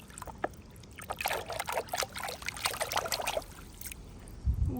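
Water trickles and splashes in short uneven bursts while a toy camel is rinsed clean, fairly quiet and close, with a dull knock near the end.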